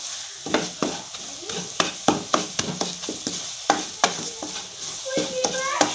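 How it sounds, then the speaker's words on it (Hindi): A spoon stirring eggs into sizzling halwa in a pan, with a steady run of sharp scraping clacks against the metal in an irregular rhythm over a soft continuous frying hiss, close up. "इसे अच्छी तरह से अब इसे हिलाते जाएंगे क्योंकि अंडों के वो बन जाएंगे"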